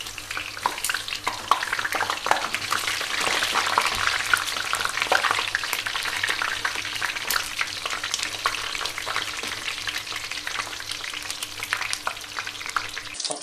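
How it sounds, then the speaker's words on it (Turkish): Eggplants and minced meat frying in a pan for stuffed karnıyarık, a steady close sizzle and crackle with scattered spatters running throughout, no voices. "Patlıcanlarım gayet güzel kızardı."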